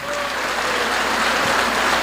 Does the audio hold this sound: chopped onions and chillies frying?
no